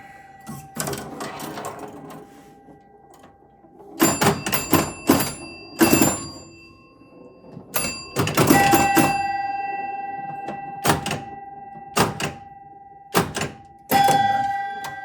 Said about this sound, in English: I think it's just the loud noise of these pinball machines